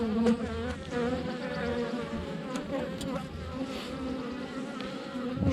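Honey bees buzz steadily and densely at a Dadant hive, a close, continuous drone with no talking.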